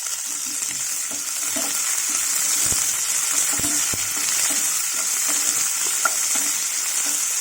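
Capsicum sizzles steadily in a hot pan for a broad beans and coconut curry, with scattered scraping and clinking from a spoon stirring it, close and continuous without speech.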